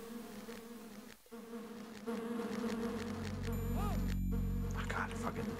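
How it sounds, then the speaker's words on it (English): Bees buzz in the video game Lands of Lore: The Throne of Chaos, a continuous insect drone that swells louder over a few seconds amid game ambience. "There's still bee noises,"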